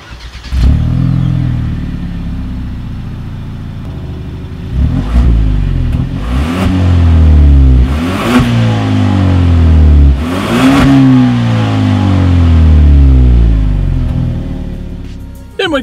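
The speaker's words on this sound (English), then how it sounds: "here is that exhaust clip" A 2019 Genesis G70's 2-liter engine starts and revs repeatedly through its single exhaust outlet, rising and falling in loud surges, close by, with a final blip at the end.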